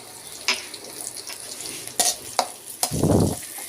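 Spiced vegetable curry base with turmeric, coriander powder and Kashmiri red chilli is stirred in a pan, giving soft sizzling broken by sharp spoon knocks and scrapes, then a louder burst of frying near the end.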